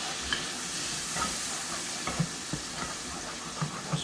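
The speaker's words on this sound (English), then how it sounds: "Then we're going to saute it for about 5 minutes until it's nice and" Marinated chicken sautéing in a pan, a soft steady sizzle with occasional scraping and stirring knocks from a utensil, close and fairly quiet, with no talking.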